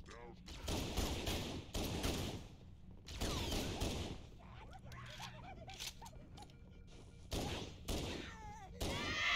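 Gunfire in the game Halo CE, repeated bursts of rapid automatic shots with dense, loud firing in clusters and short gaps between, plus a few other effects, while a voice talks at times.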